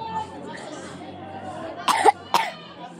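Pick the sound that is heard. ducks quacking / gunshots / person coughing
person coughing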